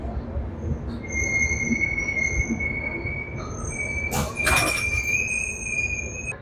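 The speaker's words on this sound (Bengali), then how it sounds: "একদম সঠিক টাইমে আমাদের ট্রেন ছেড়ে এখন বেরিয়ে যাচ্ছে 10:45 রাত প্রতাপ এক্সপ্রেস।" The 12496 Pratap Express pulls out of a Kolkata station at night, its wheels giving long, thin, high metallic squeals over a steady rumbling roll. A brief clanking burst cuts in midway, and insects chirp faintly beneath.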